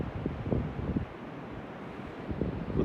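A cold northerly wind buffets across an open beach during a fishing championship, gusting rumble on the microphone with soft surf-like washes, no voices.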